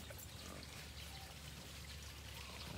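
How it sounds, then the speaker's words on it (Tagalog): Water is poured into drinkers in a pig pen, a faint continuous splashing trickle against steady low background noise. "palit uli ng tubig sa ating mga painuman"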